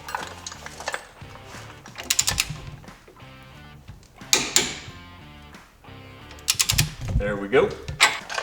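A ratcheting torque wrench tightens a front control arm bolt on a 2014 Caprice in close, loud bursts of rapid clicking separated by short pauses, while someone speaks briefly.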